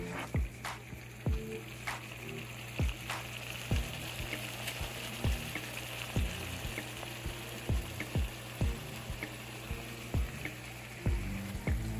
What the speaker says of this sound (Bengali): দিয়ে ভালো করে মিশিয়ে নিয়ে এটাও মোটামুটি 5 মিনিট মতন লো টু মিডিয়াম আছে ভালো করে ভেজে নেব